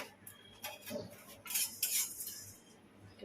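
Whole kabab chini (cubeb) spice berries dry-frying in a karai, with soft scraping and clinking of a metal spoon stirring against the pan in uneven bursts, close and fairly quiet.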